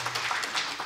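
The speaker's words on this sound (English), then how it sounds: "Give her a big round of applause." Audience at a ladies' training camp clapping together, a brief burst of fairly steady, evenly spaced claps at moderate volume.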